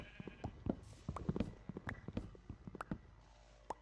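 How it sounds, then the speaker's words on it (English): Faint bleating of sheep in Minecraft amid scattered clicks and soft footsteps, a game-like ambience with short taps and a brief whooshing swell. "Oh, we've got some sheep now."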